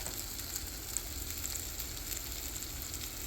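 A veggie burger patty sizzles loudly in an overly hot pan, a constant bright crackle and spatter with small pops scattered through it, close and alone.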